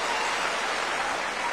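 Dense, steady applause from a gathering of village elders at a State House meeting with the president, a continuous wash of many clapping hands filling the space without pause.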